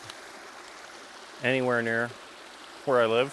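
A small creek running low during a drought gives a steady, soft trickle of water throughout, with someone talking over it in two short bursts.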